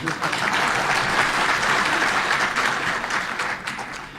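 Steady, loud applause from an audience at a speech, a dense wash of many hands clapping at once that holds throughout and eases slightly near the end.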